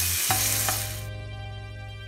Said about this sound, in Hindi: ऑयल लें और इसमें जो है ये चिकन रखें फ्राई करने के लिए।